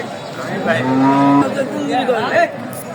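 A cow lets out a long, steady moo over the chatter of a busy crowd, with people talking close by, at a livestock market in Talgachhi, Sirajganj, Bangladesh.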